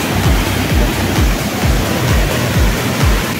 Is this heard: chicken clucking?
no